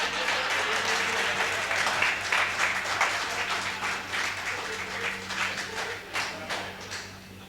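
An audience at a comedy poetry night claps steadily in sustained applause, a dense, fairly loud wash of many hands that gradually thins toward the end, with a low hum underneath.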